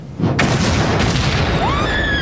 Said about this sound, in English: They shoot crossbows, rifles, grenade launchers.